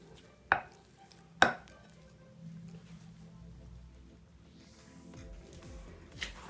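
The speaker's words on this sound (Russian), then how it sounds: "Для начала надо будет размять наш картошечку." Boiled potatoes are mashed in a glass bowl. Two sharp knocks ring out early, then a quiet, soft squishing continues at low level, with no talking.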